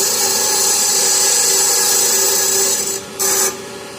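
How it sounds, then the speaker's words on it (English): A metal bracelet made from an auger is ground with a power tool, giving a loud, steady high-pitched grinding whine that holds for about three seconds, drops briefly, then resumes and fades. "Somebody's probably cringing because I'm grinding on this."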